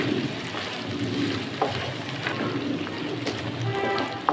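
Steady crackling sizzle of ginger garlic paste hitting hot oil in a pan of frying beef karahi, close and continuous with occasional sharper pops and stirring scrapes.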